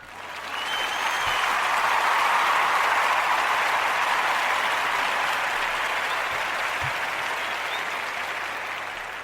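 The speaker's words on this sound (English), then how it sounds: "we're going to give Allison a round of applause for that" A round of applause for Allison: dense, steady clapping from a crowd, loud and continuous for about nine seconds, easing slightly toward the end.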